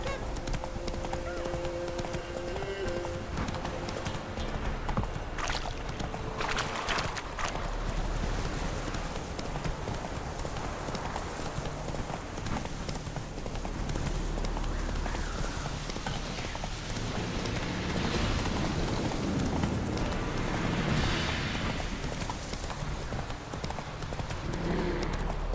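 Roach, the horse in The Witcher 3 video game, galloping with a steady rhythmic clip-clop of hooves under game ambience and rain, a brief whinny early on.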